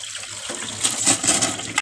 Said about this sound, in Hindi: अब मैं इसको ठंडे पानी से धो लूँगी